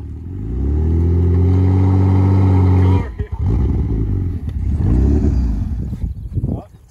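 A crash-damaged Ford Fusion's engine running with a loud steady idle drone, then revving unevenly with rattling and clatter, close by as people talk over it.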